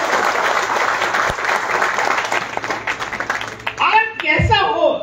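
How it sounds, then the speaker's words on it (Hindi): An audience at a Modicare business event applauds loudly and steadily, a dense wash of clapping that fades near the end as a voice speaks over it. "एक बार जोरदार तालियां हो जाए दोनों को"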